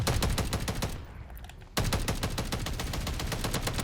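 Light machine gun in Modern Warfare 3 fires in long rapid bursts, dense rhythmic shots filling the clip, pausing briefly near the middle before resuming at full loudness.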